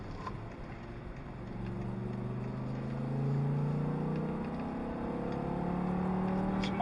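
A 2008 BMW M6 driven at slow speed on side roads, its engine giving a steady low drone with slowly rising and falling pitch as it cruises, fairly close and continuous with no talk.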